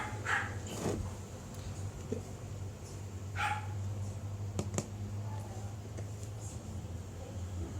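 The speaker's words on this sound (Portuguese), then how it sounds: "Segura a Bela aí para não latir, porque eu tô dando aula aqui" A small female dog barks indoors in a home, giving a few brief, faint yaps scattered over a quiet background.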